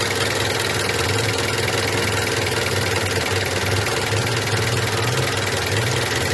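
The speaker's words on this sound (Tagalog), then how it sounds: "Masyadong nagbabibrate yung ating makina." A car engine idles roughly during an idle speed control valve test, a steady loud low hum with a shaky, vibrating pulse that runs unbroken throughout.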